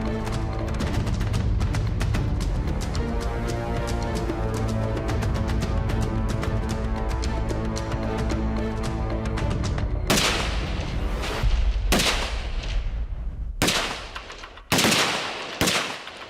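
Rifle gunshots in a timed shooting match at 200 yards: a rapid dense string of overlapping shots from several shooters at first, then a handful of separate loud, sharp cracks, each followed by a ringing decay.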